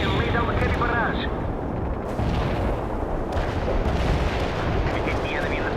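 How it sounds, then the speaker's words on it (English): Heavy artillery barrage in a war video game (World in Conflict), with continuous rumbling booms and blasts rolling loudly throughout, while radio-style voice lines speak over the bombardment. "Artillery strike on the way. Barrage hit the target."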